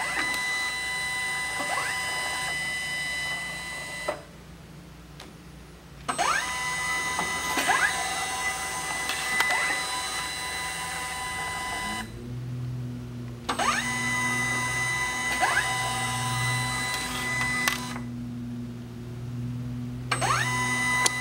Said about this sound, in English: That's the demonstration of the two conveyors that will be going with the QP3.